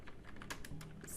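Close, quiet keystrokes on a computer keyboard tap out a short burst of rapid, uneven clicks.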